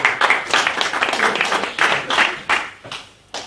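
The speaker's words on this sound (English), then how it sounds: "So a round of applause for my second volunteer." An audience at a computer science magic show applauds a volunteer, with a burst of fairly close claps that swells and fades in waves before dropping off, ending with a final clap.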